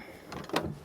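The big rear door of a Nissan GU Patrol opens with a short mechanical creak and a firm latch clunk up close, lasting under a second.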